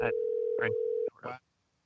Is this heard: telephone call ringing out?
yes